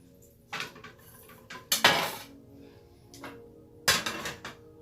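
A pan sets down on a stovetop with metallic clanks while making sweet potatoes: several sharp knocks spread over a few seconds, two louder impacts with ringing tails, in a quiet kitchen with no talk.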